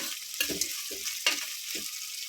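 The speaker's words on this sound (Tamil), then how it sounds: "இப்போ நம்ம வந்து கட் பண்ணி வச்சுருக்கிற ஒரு பெரிய சைஸ் வெங்காயத்தை வந்து போட்டுக்கலாம். இதை நல்லா வதக்கிக்கணும்." A large chopped onion sautéing in a pan for chicken biryani, with a continuous close sizzle and several spaced scraping strokes of a spatula stirring it.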